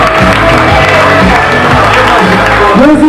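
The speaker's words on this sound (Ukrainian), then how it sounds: "Ваші аплодисменти" Audience at a boxing evening in a hall, a loud sustained crowd roar with cheering and shouts, dense and continuous, voices rising near the end.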